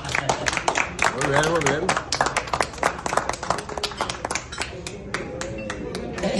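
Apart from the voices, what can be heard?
audience applause and clapping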